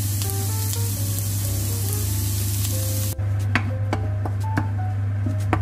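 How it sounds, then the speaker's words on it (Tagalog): Chopped onion sautéing in olive oil in a hot pan gives a loud, close, steady sizzle with occasional light clinks of utensil against metal and glass, and no one speaks. "sa isang mainit na pan, maglagay po tayo ng olive oil at isa po natin ang sibuyas hanggang sa ito ay maging malambot"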